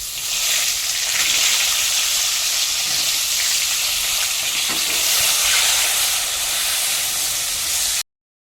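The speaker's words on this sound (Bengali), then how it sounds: "তো দেখুন বন্ধুরা আলুগুলো লাল লাল করে ভেজে নিচ্ছি" Diced potatoes fry in a generous amount of hot oil, a dense, loud sizzle close by that holds steady for about eight seconds before cutting off, with no voices.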